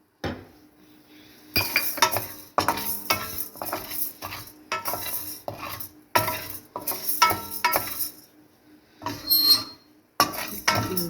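Urad dal tipped into a pan and stirred with a metal spoon for homemade sambar powder, giving repeated scraping clinks and rattles of utensil against pot with faint frying underneath, close and fairly loud.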